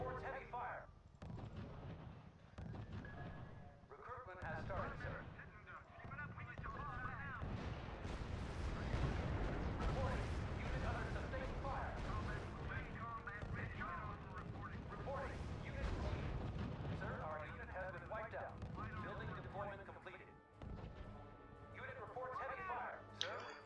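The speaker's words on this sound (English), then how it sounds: "we're taking some pretty heavy fire over here already" Heavy gunfire and artillery rumble continuously in the R.U.S.E. real-time strategy game, dense and loud throughout with booming impacts, while a voice talks over the battle.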